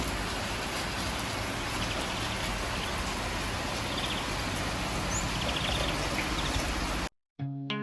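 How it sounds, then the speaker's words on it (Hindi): Heavy rain pours steadily in the early morning, a dense, continuous hiss that fills the scene, with faint birdsong in the background before the sound cuts off abruptly near the end. "सहरी में मैं उठी थी तो बहुत तेज़ बारिश हो रही थी।"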